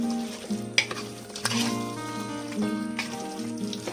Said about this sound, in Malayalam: എല്ലാം കൂടി നമ്മൾ നന്നായിട്ട് മിക്സ് ചെയ്ത് കൊടുക്കുവാണേ.